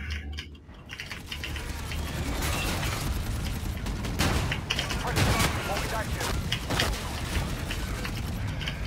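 Rapid automatic gunfire and clattering weapon mechanics in Call of Duty: Infinite Warfare, a dense continuous barrage of shots with bursts of chain gun fire, loud and close, running under occasional speech.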